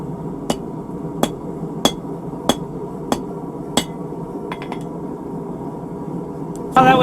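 A hammer strikes hot steel bar stock while forging a scroll at an anvil, six sharp ringing blows at a steady pace, then a few lighter taps and a brief rougher burst at the end.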